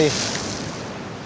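A loud wash of surf surges over the rocks at Figure 8 Pools, a broad roaring rush that swells at the start and slowly fades while someone speaks.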